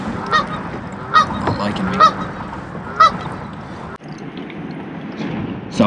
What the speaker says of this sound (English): This duck is really pissed off at me for some reason.